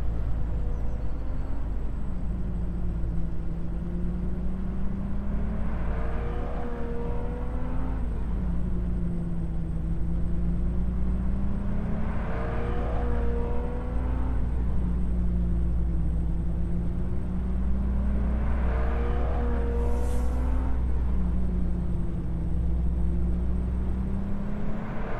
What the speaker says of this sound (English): Can you hear that car that's next to me?